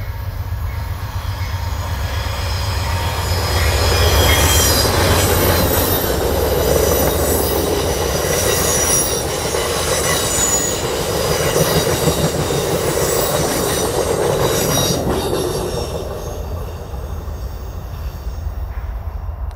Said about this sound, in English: caught Amtrak 29, running on time with a shortened consist.